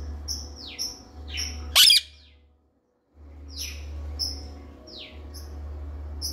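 A bird near its nest in a tree gives repeated short, bright chirps at close range, with one louder burst and a brief silent gap, over a low steady hum.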